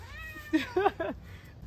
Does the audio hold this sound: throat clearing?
no